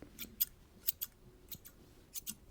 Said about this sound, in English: We're gonna do a couple more snips.